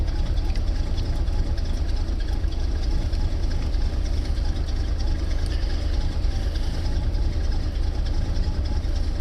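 A 1979 Chevrolet C10 truck engine idles steadily after a cold start, a continuous low rumble heard close up for the whole stretch, without clear speech over it.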